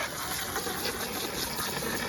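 Water poured and gushing into a dry worm chow mix, a steady close rushing wash that runs unbroken for a couple of seconds.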